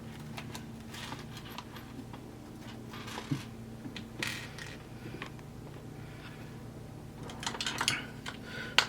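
Nylon screws and nuts being fitted onto robot assembly parts make faint, close clicks, small plastic-on-metal taps and light scraping over a quiet background hum, with a few sharper knocks near the end.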